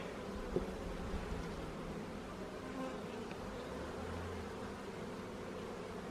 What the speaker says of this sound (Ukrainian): Дивіться, скільки бджіл за заставною